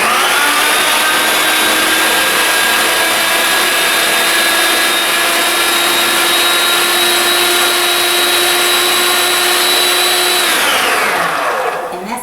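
A food processor blends cauliflower mash with cheese, its motor a loud, steady, high-pitched whir that runs continuously for about ten seconds before winding down. No one speaks.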